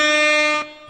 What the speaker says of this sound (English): We'll ride you out on the Jamaican air horn.